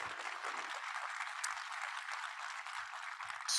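Audience applause at a demo day event at an aquarium, a steady wash of many hands clapping throughout, fairly distant and even, with no talking over it.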